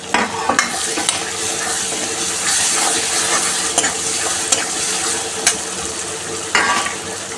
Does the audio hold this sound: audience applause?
no